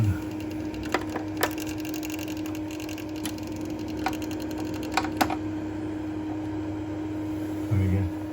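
A bathroom extractor fan, screwed in too tightly and running noisily, gives a steady close hum with a few sharp clicks and knocks scattered through it.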